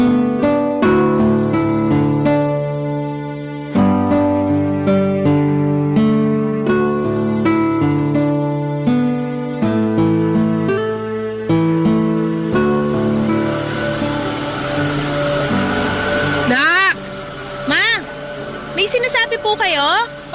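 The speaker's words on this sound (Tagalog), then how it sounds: "Pasensya na po, medyo maingay kasi tong vacuum eh." A household vacuum cleaner switches on partway through and runs with a steady, broad whine beneath ongoing piano-like music, fairly close, with voices speaking briefly near the end.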